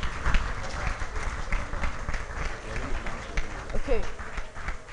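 Audience clapping at an award ceremony as a nominee leaves the stage, a dense, continuous patter of many hands under a murmuring crowd and some nearby voices.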